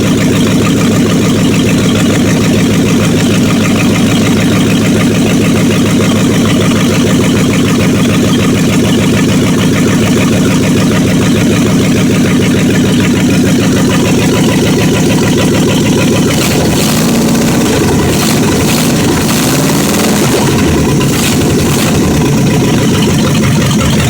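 A 1976 Dodge Coronet's 318 V8 runs with open manifolds and no exhaust pipe, a loud, raw, continuous rumbling idle that turns rougher and uneven in its final seconds.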